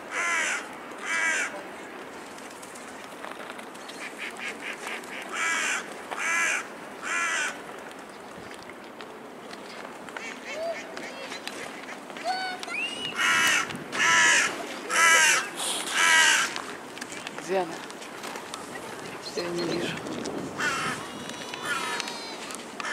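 Crows cawing loudly in repeated bursts of harsh calls, several birds answering one another over a faint outdoor background.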